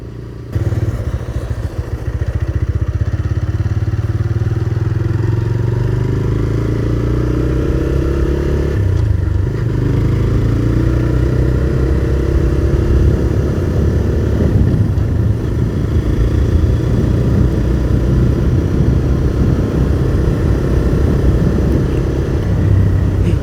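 A TVS Raider 125 motorcycle exhaust note while riding on the road, a steady loud low engine drone with rising and falling pitch as the throttle changes, plus wind and road rumble.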